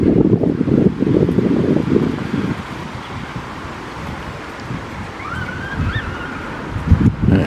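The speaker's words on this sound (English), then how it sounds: "it's pouring down with rain as well" Heavy rain pouring down in a park by a bowling green, a dense, steady hiss with gusty rumbling bursts from wind buffeting the microphone.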